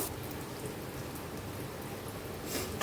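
Marinated eggplant slices fry in hot oil with a steady, dense crackling sizzle that holds even throughout, close and moderately loud, without any voices.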